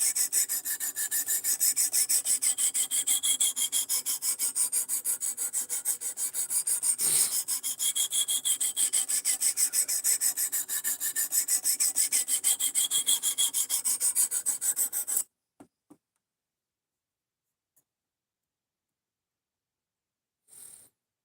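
Knife blade drawn over a fine-grit sharpening stone, a steady close rasping scrape repeated rapidly for about fifteen seconds, then near silence with a few faint clicks and a brief final rub.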